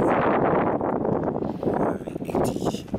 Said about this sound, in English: Very windy day on Mount Kilimanjaro